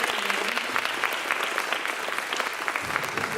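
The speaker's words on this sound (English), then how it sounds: "if we can just please give a big round of applause and thanks to the reps" A high school audience at a college admissions panel gives a steady round of applause for the visiting college representatives, many hands clapping densely and evenly at moderate distance throughout.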